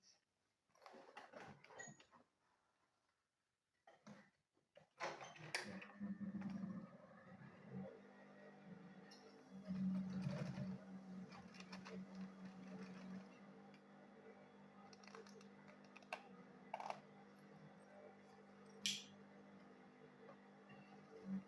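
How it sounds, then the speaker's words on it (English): Sewing machine stitching bias binding around the edge of a schoolbag, a close mechanical whir in intermittent runs, with quiet handling pauses early and a longer steady stretch after. "I'll sew it round with this bias here. It will go this way. So let me go ahead and sew it."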